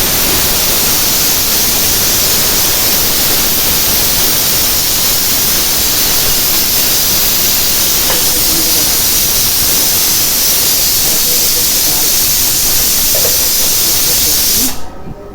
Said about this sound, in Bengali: আর এটা হচ্ছে প্রেশার কুকারের সিজ দিতেছি